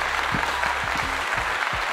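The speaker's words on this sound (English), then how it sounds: "Round of applause for God." Audience applause, a steady dense wash of clapping filling the whole short stretch, with faint voices underneath.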